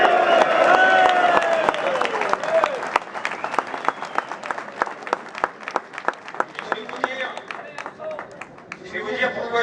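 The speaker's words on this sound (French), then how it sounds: "Je propose déjà qu'on applaudisse." A military audience at Fort de Nogent breaks into sustained applause, loud and dense at first with a voice over it, then thinning into scattered, rhythmic claps that fade and pick up again near the end.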